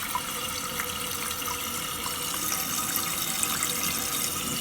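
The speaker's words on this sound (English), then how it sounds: "All right, I turn the water back on." A toilet tank refilling after the water valve is turned back on, a steady close hiss and rush of running water throughout with no talking.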